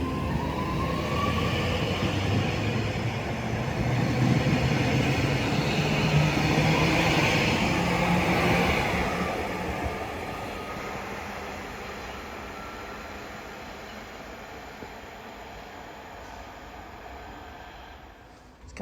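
A train pulls away from Heald Green station as a loud rumble and rolling hiss, with a rising motor whine that fades gradually as the train moves off into the distance.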